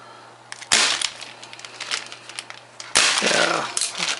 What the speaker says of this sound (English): This is going to be a dry fire.